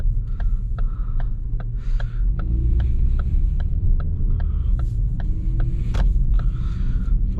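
A car on a test drive hums and throbs at steady low revs, its engine and road rumble continuous, with regular faint ticking clicks repeating over the drone.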